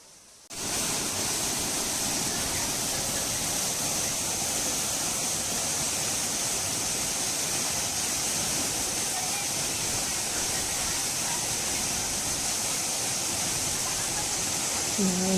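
Ermayi Falls near Ujire pours down in a dense, unbroken roar of falling water, loud and steady and close. It starts suddenly after a brief quiet moment and holds level to the end.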